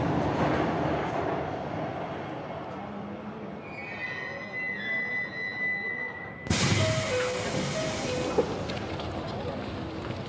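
Train pulling into a station in the video game Persona 5: The Phantom X, steady rolling rail noise with high brake squeals, then a brighter burst as it stops, under station announcements.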